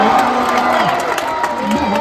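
A huge crowd of about 125,000 in a stadium at a cricket World Cup final cheers and shouts loudly and steadily, with whoops and voices rising from the mass.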